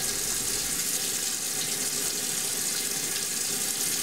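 Tap water running steadily into a sink while hands are rinsed, a constant close hiss of flowing water with no other sounds.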